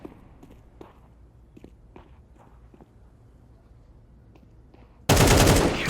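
Footsteps and light movement in a Counter-Strike 2 match, followed near the end by one sudden loud burst of gunfire.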